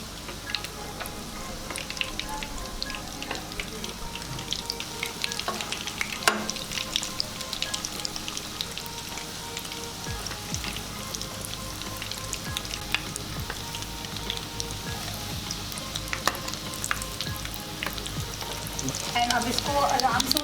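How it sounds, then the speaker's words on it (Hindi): Food frying steadily in a pan, a continuous dense sizzle with occasional crackles and utensil clicks, holding at a moderate level throughout with no talking. "बहुत सावधानी से फ्राई करना है"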